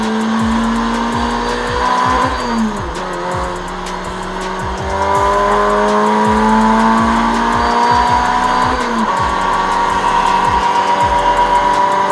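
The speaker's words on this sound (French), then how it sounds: "j'ai été surpris par le freinage qui était un peu tardif et en plus, pneu froid" A race car on a track day at Circuit de Saintonge, braking late on cold tyres and running off the track: a loud engine revving and downshifting in repeated climbing and dropping sweeps, with tyre squeal, close and without speech.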